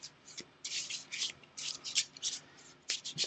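Loot cards in a tabletop game being shuffled by hand, several quick riffling bursts of crisp paper rustle and flicks with short pauses between, close and fairly quiet.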